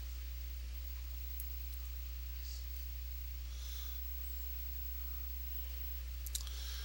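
A computer mouse clicks a link, a sharp faint tick near the end over steady low electrical hum and quiet room noise.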